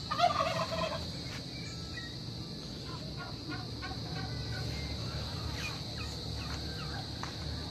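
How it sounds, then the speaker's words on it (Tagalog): Turkeys gobble in a rapid burst near the start on a goat farm, then a steady hum of barnyard noise continues, with faint bird calls scattered throughout. "Mga pabo."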